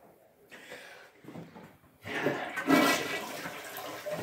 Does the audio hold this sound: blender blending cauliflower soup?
no